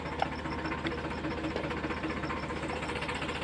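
A tractor stuck in mud and water with its engine straining, a low, rapid, knocking diesel throb that pulses steadily and close throughout, with no one speaking.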